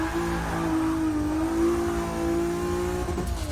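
The single-turbo 2JZ engine in a Lexus SC300 holds a steady, droning rev with a strong humming tone, slightly rising and falling, lagging before it builds, close and alone.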